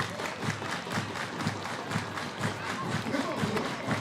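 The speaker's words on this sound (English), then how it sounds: "Everybody clap your hands." Baseball stadium crowd clapping hands in a steady rhythmic beat, about two claps per second, with a murmur of voices mixed in.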